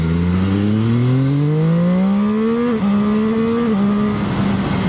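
A Zhang Xue 820RR motorcycle accelerates hard up close, its loud engine note climbing steadily through the revs with brief dips at quick gear shifts, no voices over it.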